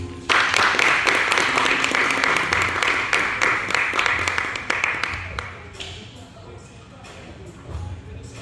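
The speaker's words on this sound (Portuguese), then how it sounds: "Gostaria também que dessem uma forte salva de palmas a Simba José." An audience at a university event applauds loudly and steadily, a dense wash of clapping that gradually fades after several seconds into a few scattered claps and room murmur.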